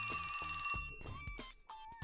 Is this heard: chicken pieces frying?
no